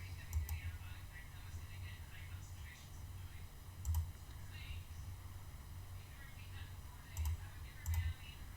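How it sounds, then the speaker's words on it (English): A few sparse keystrokes on a laptop keyboard as text is entered into a browser on a Windows machine. The taps are faint and widely spaced over a steady low hiss. "Type in the same thing."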